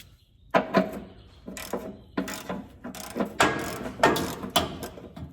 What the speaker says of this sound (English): I got my specialty Pittsburgh ratchet, 1/2-inch ratchet